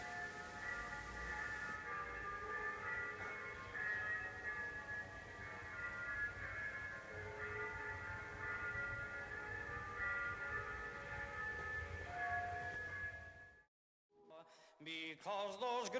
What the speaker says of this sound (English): in the distance a steam train can be heard, struggling up the hill towards the station